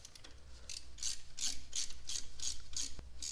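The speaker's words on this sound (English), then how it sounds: "we're going to thread a nut back on" A nut is spun by hand onto an exhaust manifold stud on a Porsche 944, giving a steady run of close, crisp ratcheting clicks in rapid bursts that repeat about twice a second, with no talk over it.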